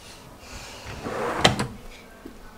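A wardrobe drawer slides open and shuts in a home bedroom while clothes are being tidied, one smooth rolling slide ending in a sharp close thud, then a faint soft knock.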